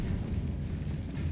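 A Confringo fire spell blast in the video game Hogwarts Legacy, a loud, rumbling low burst that fills the whole short moment with no talk over it.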